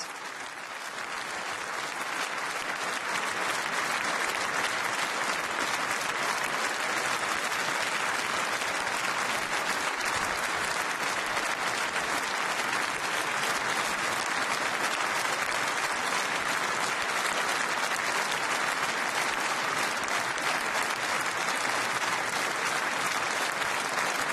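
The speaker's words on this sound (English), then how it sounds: "Standing applause after the two Nobel lectures." Sustained, thunderous standing applause from a large audience at the 2012 Nobel Peace Prize ceremony fills the space, building in the first seconds and then holding steady and dense throughout.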